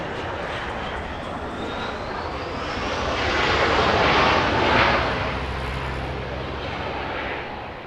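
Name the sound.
Cathay Pacific airliner taxiing at Los Angeles airport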